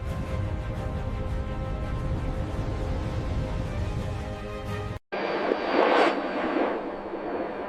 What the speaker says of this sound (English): Both engines produced full takeoff thrust.